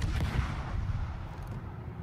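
Low-tier naval guns in World of Warships fire as a rumbling, muffled salvo, with deep booming thuds fading over about two seconds.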